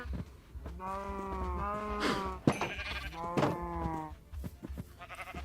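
Minecraft sheep bleating while animals are bred in a pen, a few wavering bleats in quick succession, close and clear, mixed with short game clicks and soft background noise.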